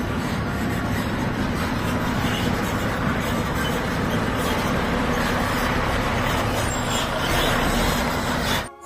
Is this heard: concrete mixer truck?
yes